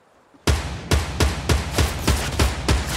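Rocket launcher fired repeatedly in a video game, a sharp loud blast followed by a rapid run of about eight punchy, evenly spaced shots, close and dominant.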